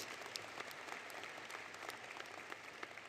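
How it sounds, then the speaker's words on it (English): Steady audience applause fills a commencement ceremony for doctoral and master's graduates, dense and continuous with scattered sharper claps throughout, no voices over it. "We can give that a round of applause."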